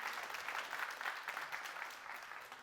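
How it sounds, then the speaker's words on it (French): A studio audience at a television variety show claps in steady, sustained applause, heard from a moderate distance. "je demande beaucoup d'applaudissements"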